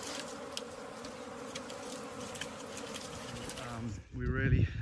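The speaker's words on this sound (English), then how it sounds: "Upon finding a hive in a tree, they use smoke to calm the bees." Steady dense buzzing of bees at a wild hive in a tree, smoked by Hadza honey hunters, continuous and close, broken near the end by a louder rustling knock.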